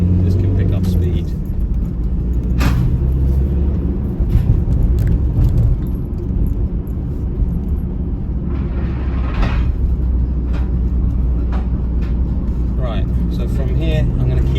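A 2018 Ford Transit Custom 2.0L 290 LR van picks up speed on the road before joining the A1, its engine and road noise a loud, steady rumble from inside the cab, with a voice over it.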